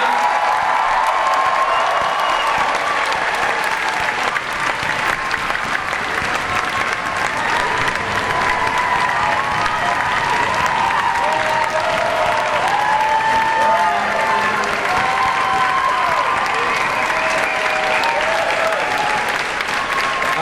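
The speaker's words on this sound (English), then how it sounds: "Let's give one more round of applause for the class of" A graduation audience gives the graduating class sustained applause, a loud, dense wash of clapping with scattered cheers and whoops that holds steady for about twenty seconds, with faint voices underneath.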